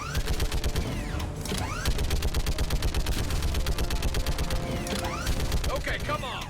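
Steady rapid gunfire in Mass Effect 3 Legendary Edition combat, a continuous rhythmic stream of shots with sweeping whooshes and mechanical clicks, loud and close throughout.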